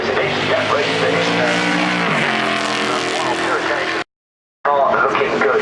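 A 1970s Grand Prix race car once driven by James Hunt roars loud and close at a hillclimb run, a sustained high-revving engine note with a gear change, cutting out briefly before resuming.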